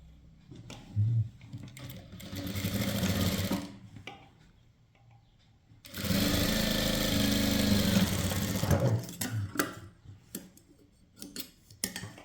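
A sewing machine stitches a blouse's front and back pieces together in two close, steady runs of several seconds each, separated by quiet handling clicks and fabric movement.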